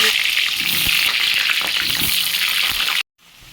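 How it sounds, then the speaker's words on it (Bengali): Potatoes sizzle steadily in hot oil in a pan for an Indian jackfruit khichuri, a dense continuous hiss close by with faint stirring clinks, then breaking off abruptly into near silence at the end. "এইভাবে আলুগুলো আমি ভেজে নিয়েছি"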